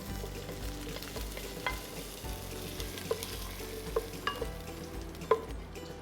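A spoon stirs a lentil payasam mixture in a pan, producing soft sizzling and scraping with a few light clinks of utensil against metal, close and fairly quiet.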